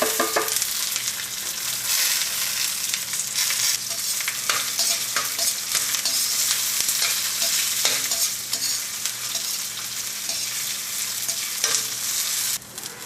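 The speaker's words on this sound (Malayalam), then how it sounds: "മസാലകളൊക്കെ ഇട്ടിട്ട് നമുക്കൊന്ന് വറുത്തെടുക്കാം." Steady sizzling of dried red chillies and spices frying in a hot pan for egg kurma, with a spoon stirring and scraping throughout, close and continuous.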